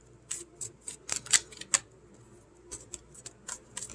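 A deck of tarot cards is shuffled in quick bursts of crisp riffling and clicking, close and fairly quiet, with short pauses between the flurries.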